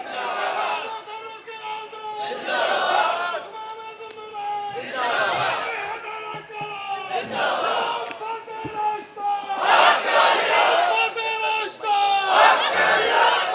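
A large crowd at a religious gathering in Chakwal loudly chants the Takbir slogan, voices rising and falling in repeated waves of shouted call and response.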